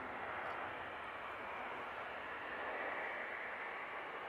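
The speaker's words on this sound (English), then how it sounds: "737 MAX is making its way over to us now." A Malta Air Boeing 737 MAX approaching an airport, a broad, steady jet engine roar heard from a distance, even and continuous with no voices.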